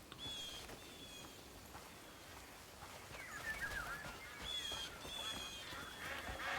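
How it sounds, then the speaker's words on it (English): A swamp hen in the video game Crimson Desert gives repeated honking, goose-like calls in short bursts over a steady game ambience, with faint speech in places. "Swamp hen."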